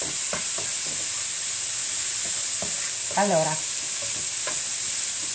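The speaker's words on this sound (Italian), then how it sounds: "la pancetta l'ho rosolata, vedete, è uscito fuori tutto il grasso" Pancetta browning in its own rendered fat, giving a loud, constant sizzle with occasional stirring clicks, and someone briefly speaks over it.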